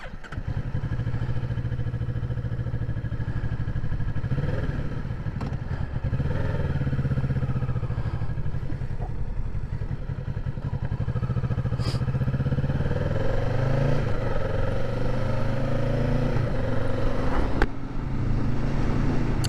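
A 2023 Kawasaki Ninja 650 motorcycle engine runs steadily throughout with a low rumbling drone, its pitch rising and falling as it rides along, loud and close.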